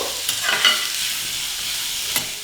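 Onions fry in a pan with a soft, even sizzle that holds steady throughout, touched by a couple of brief scraping stirs near the start and end, close up with no voices.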